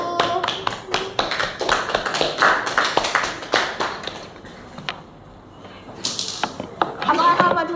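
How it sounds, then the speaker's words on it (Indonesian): Applause for a student group at a software engineering micro-teaching session: sharp, irregular claps in quick bursts from a small group nearby, thinning out midway then picking up again at the end. "berikan aplaus untuk kelompok 1"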